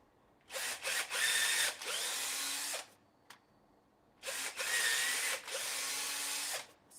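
A power drill with a larger bit widens pilot holes while building a skateboard, whirring in two bursts, each stuttering at the start then running steadily for about two seconds, close by, with a brief pause between.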